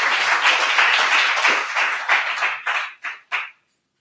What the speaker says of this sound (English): So please give a big round of applause for Alex as he takes the stage